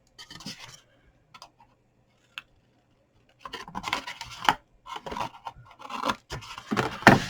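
Scissors trimming excess card, a few faint isolated snips at first, then a denser run of close crisp cuts and rustling card handling, alone without voices.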